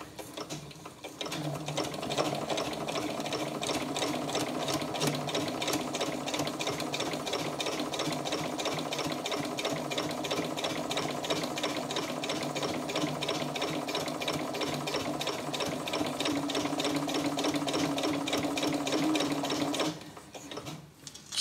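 A sewing machine top stitching a vinyl project bag runs steadily for about twenty seconds, a fast even mechanical chatter of needle strokes close by, stopping at the end with no talk.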